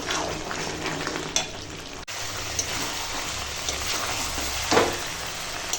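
Chicken gizzard and liver with potato cooking down in spices until dry, a close, dense sizzle with occasional scraping stirs and a brief clunk partway through, no talking.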